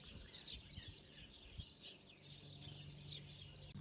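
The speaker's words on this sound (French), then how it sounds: "je vais ouvrir les fenêtres en même temps pour aérer un petit peu. Et je sais pas si vous allez l'entendre, mais on entend les oiseaux." Birds chirp and sing outside an open window, a cluster of bright, quick tweets repeating throughout at moderate distance over a faint low indoor hum.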